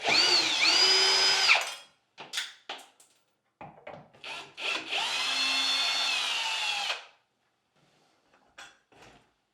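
Power drill backing screws out of a shelf: two sustained whining runs of the motor, each about two seconds, separated by short clicks and scrapes, close and loud, with no talking.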